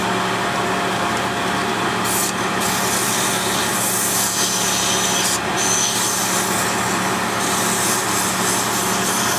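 Wood spinning on a lathe is sanded with 240 grit sandpaper, a loud continuous rubbing hiss over the steady hum of the machine, close and unbroken.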